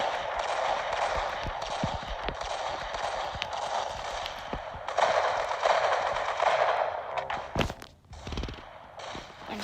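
Rapid automatic gunfire from a Roblox Arsenal shooter game, dense and loud in long bursts, with clicks and a brief lull near the end.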